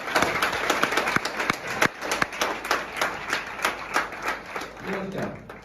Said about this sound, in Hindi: बहनों के लिए एक जोरदार ताली चाहूंगा।